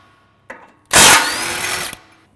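A power tool spins off a 17mm bolt on a 2016+ Toyota Tacoma front end during a bumper install, a single loud whirring burst of about a second after a brief click.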